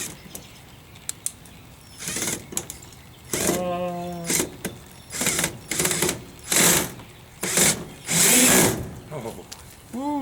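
A Dremel 3000 rotary tool whines in a series of short, loud bursts with brief pauses between them, including one sustained rising whir, during a door hinge replacement.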